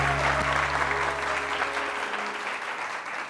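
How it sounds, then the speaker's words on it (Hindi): Studio audience at a Hindi-Urdu television talk show breaks into sustained, dense applause, loud and even at first and tapering slightly toward the end, with no voices over it. "बहुत सारी तालियां उरूज के लिए।"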